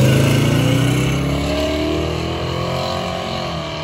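Mopar drag car making a pass at a drag strip, a loud engine roar that starts strong and rises in pitch as it pulls away, gradually fading with distance.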